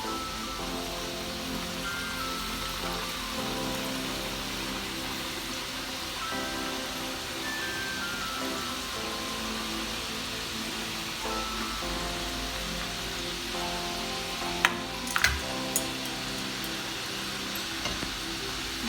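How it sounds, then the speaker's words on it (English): Modak dumplings frying in very hot oil over a medium flame, giving a steady close sizzle and bubbling throughout, with a few brief clinks of a utensil near the end. "make it medium flame, and let's fry. We need to put slowly because oil is so hot."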